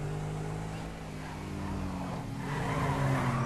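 A car engine roars while tires squeal and skid in Grand Theft Auto 5, a sustained whining screech over low motor rumble, growing louder toward the end.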